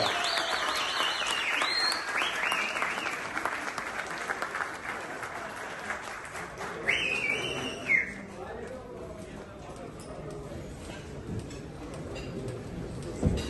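An audience applauds at a company's 50th-anniversary gala, with broad clapping that fades out over the first half, then quieter room noise with a few brief sharp sounds and faint talk.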